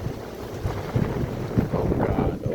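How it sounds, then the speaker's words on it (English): A strong wind gust during a severe thunderstorm in Pennsylvania, loud and continuous, roaring and buffeting the microphone with broadband rumble throughout. "here comes our last wind gust"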